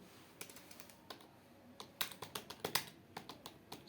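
Rapid keystrokes on a computer keyboard during a timed typing-test practice session: near, crisp clicks in uneven bursts, growing denser midway, with no talking.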